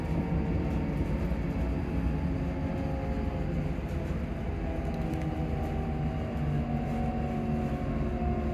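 A passenger train approaching Armadale station, heard from on board as a steady, fairly loud rolling drone of wheels and motors that stays even throughout, with no one talking.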